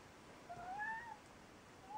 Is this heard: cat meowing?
yes